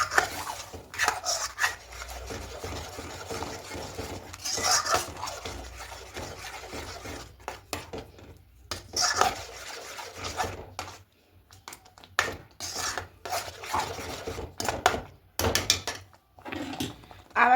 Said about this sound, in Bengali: এবার যে দুধটা জাল দিয়েছিলাম, দুধটা এখানে অল্প অল্প করে দেব। খুব ভালো করে মিশিয়ে নেব।